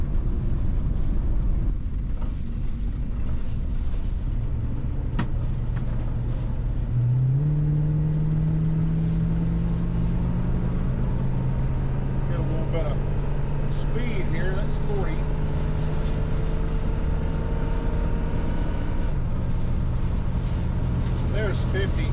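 An old, ancient RV rolls along on rough bias-ply tires, giving a steady loud road rumble and drone with a rising engine tone partway through, continuous for the whole stretch without talk.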